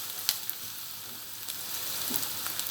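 Green chillies and onions frying in a pan before being mashed, a short, steady sizzle with a few sharp crackles and stirring ticks, close by and without speech.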